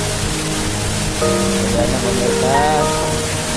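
Steady rain falling on a small Indonesian island during the December rainy season, a dense even hiss throughout, with a voice speaking briefly over it.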